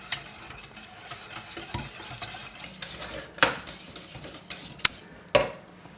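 A utensil stirs a mixture in a pan over medium heat for a mille-feuille dessert, making soft scraping swirls over a light sizzle, broken by several sharp metallic clinks against the pan near the end.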